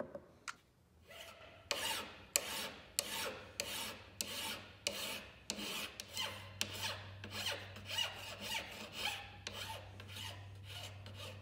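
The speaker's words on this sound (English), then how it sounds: "After cleaning up the edges with the mill file" A mill file rasps along the edges of a handmade wooden marking gauge, a dozen or so steady back-and-forth strokes in an even rhythm, close and clear, with no talk.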